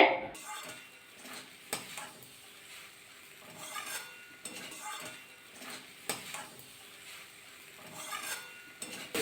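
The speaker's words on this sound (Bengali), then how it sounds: "ভালোভাবে নাড়াচাড়া করে নিলাম" A utensil stirs a cauliflower and spring onion curry in a pot, making scattered scrapes and metallic clinks at an irregular rhythm, fairly quiet and close, with soft background noise between strokes.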